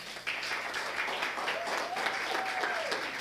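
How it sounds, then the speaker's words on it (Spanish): Sustained crowd applause, many hands clapping steadily at a moderate distance, with faint voices mixed in. "vamos a darle otro aplauso a ellos"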